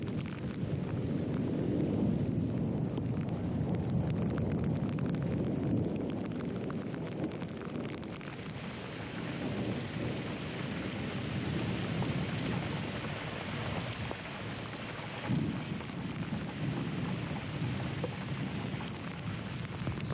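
Steady rain pours down in an open African landscape as a storm moves in, a dense continuous hiss with low rumbling underneath, loud and unbroken for the whole stretch with no voices.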